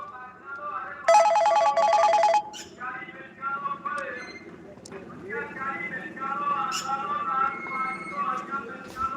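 A telephone rings in a burst of repeated trills for about a second and a half, then stops, followed by ongoing talk and background noise.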